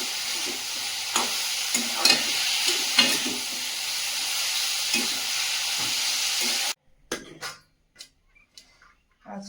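Chichinga (snake gourd) and potatoes fry in a pan with a steady close sizzle and repeated scraping stirs for several seconds, then the sizzle stops and only a few sparse clinks and scrapes remain.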